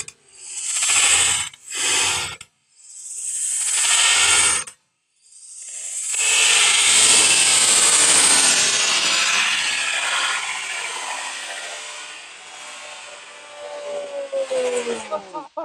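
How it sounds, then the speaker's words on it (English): A model rocket on a delay launch igniter, launched in rain, lets out a few short hissing bursts, then a long roaring whoosh of motor exhaust that fades and ends in crackling. "We've now used a delay launch igniter."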